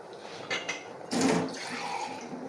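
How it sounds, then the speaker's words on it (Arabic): A small splash of water is poured over cut sweet potatoes with sugar in a pot, a short close pour with light clatter before and a faint trickle after. "هنجيب بقى شويه سكر بس كده، مش اكتر من كده، وهنحط شويه ميه صغننين خالص خالص"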